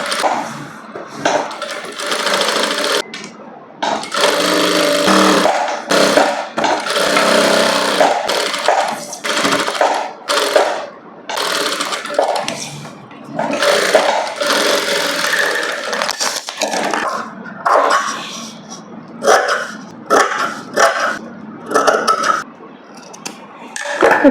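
A sewing machine stitches a princess cut blouse in bursts of close, rapid clatter separated by brief pauses, with handling noises in between and no talk.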